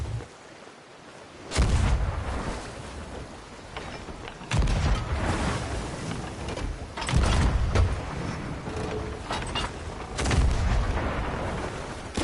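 Cannons fire at a ship in Sea of Thieves, with four heavy booming blasts spaced a few seconds apart, each followed by a rumbling decay over a dull ambient background.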